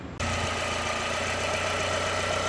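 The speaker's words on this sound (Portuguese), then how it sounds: "Tá aí então o motor do Golf já funcionando novamente." A Volkswagen Golf GTI 1.8 20v engine idles steadily after a brief click, a low, even rumble with a faint rattle running unbroken to the end.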